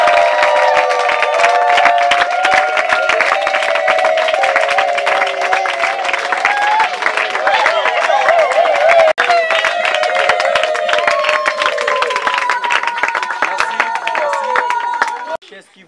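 Sustained applause and clapping from a crowd at a birthday celebration as someone makes an entrance, steady and loud throughout, with voices mixed into the din before it cuts off at the end.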